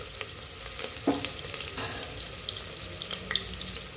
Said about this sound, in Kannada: ಎಣ್ಣೆ ಕಾದಿದೆ. ಚೆನ್ನಾಗಿ ಕಾದಿದೆ. ಇದರಲ್ಲಿ ಈರುಳ್ಳಿ ಹಾಕಿದ್ದೇನೆ.